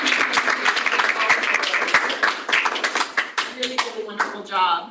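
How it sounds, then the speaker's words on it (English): Audience applause at a conference discussion on relaunching an encryption compendium: dense, close clapping from a modest crowd that thins into scattered claps, with a voice speaking over the tail. "I want to offer a huge round of applause to all three of the teams."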